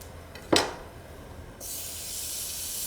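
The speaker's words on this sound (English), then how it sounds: "So now we'll add the butter to the pan." Butter hits a hot pan with a sharp burst, then settles into a steady bright sizzle that keeps building, while preparing blackened salmon in a kitchen.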